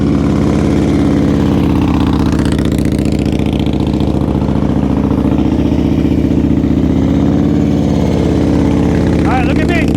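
A motorcycle engine runs at low speed during slow-speed riding practice, a steady, close mechanical drone that holds through the whole stretch, with a voice speaking briefly over it.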